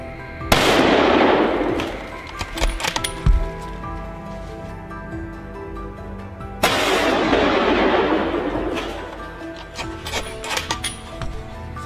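Two loud, close gunshots during a wild boar hunt, each a heavy boom followed by a long rumbling decay outdoors, the shots about six seconds apart.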